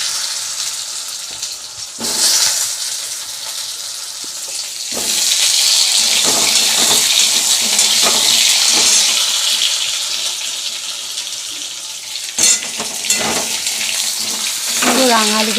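Potatoes drop into hot oil with panch phoron in a kadai scorched all around, giving a brief hiss and then a loud, steady, close sizzle with occasional clatter. No one speaks.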